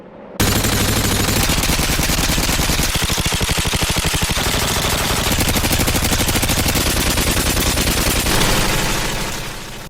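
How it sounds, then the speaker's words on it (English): Sustained automatic gunfire from the video game Modern Warfare 2 rattles in rapid, loud, crisp bursts, nearly unbroken and punchy, with heavy low-end thumps under the fast shots. "The guns were satisfying, loud, crisp, and punchy."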